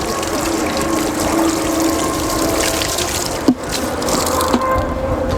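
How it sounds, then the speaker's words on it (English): Water is poured from a small pail over BMW car wheels, a steady broadband splashing wash with a couple of sharp slaps near the end, close and fairly loud with no talking. "all you need to do once it gets to this point is just douse it with plenty of water."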